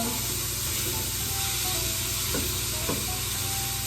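A pan of Tuscan chicken with added liquid sizzles loudly and continuously, a constant dense frying hiss with a couple of soft stirring scrapes, close to the pan.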